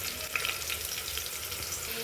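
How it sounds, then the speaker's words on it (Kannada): Onion hisses and sizzles in hot oil for a tempering as bassaru curry is cooked. The frying is steady and close, with small crackles and pops, and no one speaks. "ಒಗ್ಗರಣೆಗೆ ಎಣ್ಣೆ ಹಾಕಿದ್ದೀನಿ. ಇವಾಗ ಒಂಚೂರು ಈರುಳ್ಳಿ ಹಾಕ್ಕೊಳ್ಳಿ."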